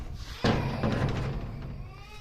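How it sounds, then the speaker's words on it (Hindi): A goat bleats once, loudly and close by, at a village home in Pakistan, with a bump or door-like thud at the onset and steady background noise. "बकरा मैं लेके आ गया हूँ।"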